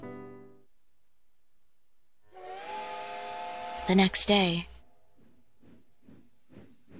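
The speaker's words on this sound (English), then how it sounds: "The train slowly leaves the station." A steam train whistle sounds as the train leaves a station in the game Code: Realize, a loud sustained hiss and shrill blast after a brief narrated line, then fading to faint chuffs.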